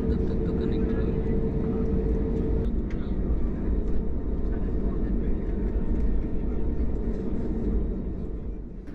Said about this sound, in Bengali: টার্মিনাল থেকে এগিয়ে বিশাল রানওয়ে অতিক্রম করে উড়াল দেবার প্রস্তুতি নিচ্ছে পাইলট